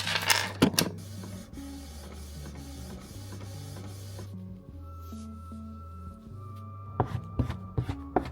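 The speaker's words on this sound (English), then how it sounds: "I forgot to turn the printer on." A printer runs steadily in an artist's home workspace, its motor humming in shifting tones, with sharper mechanical clicks and clatter near the start and again toward the end.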